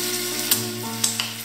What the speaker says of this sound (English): As you're frying,